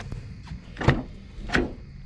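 The rear door of a 2012 Dodge Charger R/T opening at night, heard as two sharp mechanical clicks and thunks of the latch and handle about two-thirds of a second apart over low background hum.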